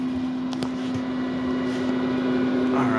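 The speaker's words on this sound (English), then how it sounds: "you can see it's a much bigger fan. It's a little louder than the other one" A larger replacement vent fan runs steadily in a Winnebago 2108DS RV, giving a loud, constant hum with a strong steady tone and broadband airy rush that continues without a break.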